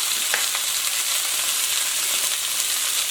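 Green, red and orange bell peppers with onion sizzle and fry in a pan, a steady close hiss with faint crackles and no talk.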